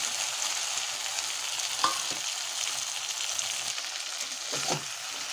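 Tengra fish and eggplant fry in a pan while being stirred, a steady close sizzle broken by a few brief scraping clicks of the spatula.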